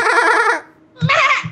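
Two loud, close goat bleats from the Minecraft video game, separated by a short pause, the second one shorter and sharper.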